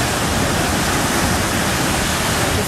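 Rough, choppy sea surf breaking steadily under an east-northeast wind, a dense, continuous roar of wash and spray close by with no pauses and no voices.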